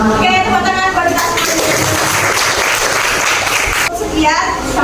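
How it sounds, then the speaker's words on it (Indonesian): Children in a classroom clap together, loud and close, with young voices calling out over the steady patter of hands. "Oke, tepuk tangan buat kita."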